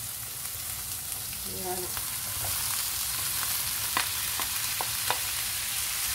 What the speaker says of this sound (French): Ça va cuire, on va mettre courgettes et champignons.